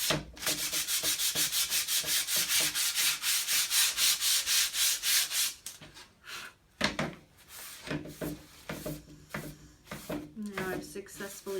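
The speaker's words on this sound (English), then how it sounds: "I'm going to take a paper towel, kind of wipe it down, get my extra sawdust off" Paper towel wiped back and forth over a freshly sanded wooden sign to clear off sawdust, a steady rhythmic rubbing that runs close and continuous, then breaks into shorter scattered scuffs and taps toward the end.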